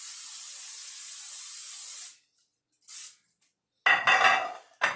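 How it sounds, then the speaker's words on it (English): Aerosol cooking spray hisses onto a casserole dish for Thanksgiving stuffing in a kitchen: one long steady two-second burst, then a short puff, followed by rattling of dish and utensils. "We're going to spray this."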